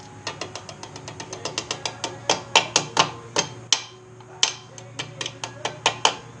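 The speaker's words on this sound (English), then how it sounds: "use my trusty hammer." A hammer taps a cotter pin on a Kawasaki Z125 Pro motorcycle during a rebuild, with a rapid series of sharp metallic strikes that speed up and grow louder, then come in looser bursts.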